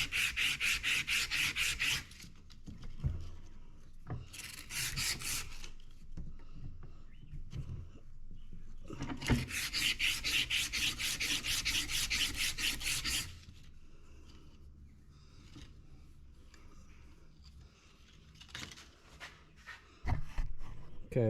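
Abrasive paper rubs back and forth on a Craftsman lawn mower crankshaft, sanding off damaged aluminum; close, raspy scraping strokes come in bursts separated by pauses, with quieter handling noises between.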